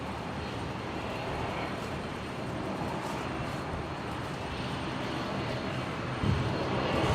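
A Qantas Link aircraft rolls along the new runway at Brisbane Airport after arriving from Hervey Bay, a steady broadband engine roar heard from a distance, continuous and even throughout.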